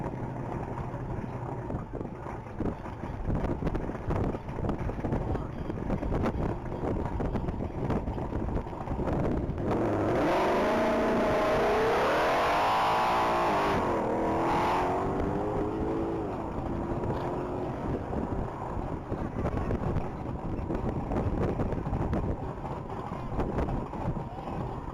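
A race car on a top-speed mile pass at the Texas Mile roars past amid heavy wind rumble, swelling to a loud peak midway and then easing off.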